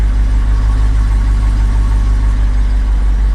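A Jeep Wrangler 392 V8 idles with a deep, steady low rumble from engine and exhaust, close and loud with no break.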